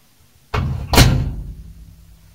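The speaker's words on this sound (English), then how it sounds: "So I'm going to close the door." A microwave oven door swung shut with a single solid thunk, close and fairly loud, its muffled rumble dying away over a second or so with no talking.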